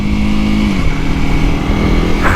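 A Honda CRF300L dual sport motorcycle engine runs loud and close, a steady throbbing drone with a brief pitch dip partway through and a rev lift at the end.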